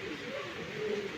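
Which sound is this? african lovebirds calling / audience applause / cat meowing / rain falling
african lovebirds calling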